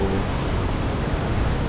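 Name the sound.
loud fast-flowing Saraswati river near Mana village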